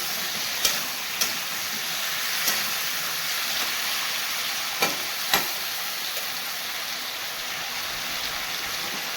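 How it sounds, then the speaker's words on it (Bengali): Cardamom fries in hot oil with a steady bright hiss, broken by a few sharp pops and clicks, heard alone at moderate loudness. "এলাচ গরম দিয়ে ভেজে নিচ্ছি"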